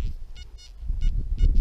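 A metal detector gives a series of short, sharp, high electronic beeps, several pulses in quick succession, alone over faint outdoor background rumble.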